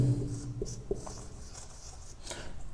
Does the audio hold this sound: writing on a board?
yes